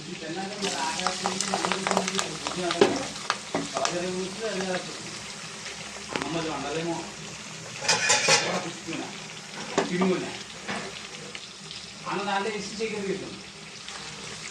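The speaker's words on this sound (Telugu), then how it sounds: "ఇందులో ఒక రెండు ఉల్లిపాయలు వేస్తున్నానండి" Two onions sizzling in a pan while a spoon scrapes and clinks as they're stirred, with a voice talking over the frying.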